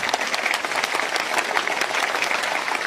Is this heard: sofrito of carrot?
no